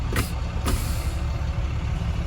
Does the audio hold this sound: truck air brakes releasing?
yes